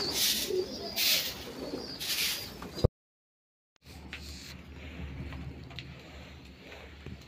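Pigeons in a home loft cooing softly, several low throaty coos near the start, then a brief silence and faint background ambience with occasional soft coos.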